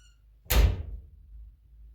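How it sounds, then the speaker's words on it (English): A skid steer's cab door swings shut with a single solid thunk close by, then rattles briefly as the sound fades to quiet. "You don't want to slam the door because that breaks the door eventually."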